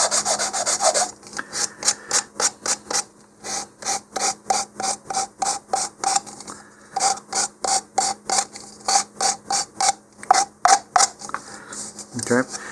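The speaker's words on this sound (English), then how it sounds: "I've got a little bit of 150 here, and just take off the burrs" Short, rhythmic strokes of 150-grit sandpaper rub across small model rocket parts to knock off burrs, close and crisp, repeating steadily with brief gaps between each pass.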